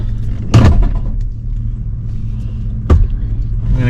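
A mini excavator's engine runs at a steady low rumble, with two louder surges or clunks as the machine works, close and alone without talk.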